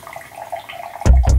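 Water splashed and poured during a playful truth-or-dare game, a quiet lead-in of low background sound giving way to two sudden, loud gushing splashes close by near the end.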